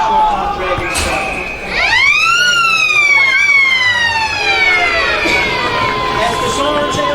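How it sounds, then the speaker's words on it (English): End-of-quarter siren at Garden Reserve during a Gisborne versus Sandhurst football match, a loud rising then slowly falling wail over crowd noise, with a commentator talking over it. "As the siren sounds here at Garden Reserve"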